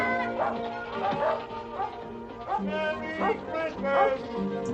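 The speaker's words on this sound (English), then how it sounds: "Keep those dogs off my lawn." Several dogs bark and yip in quick, uneven bursts on a residential lawn, close and fairly loud, with a soft whimper between barks and a voice partly mixed in underneath.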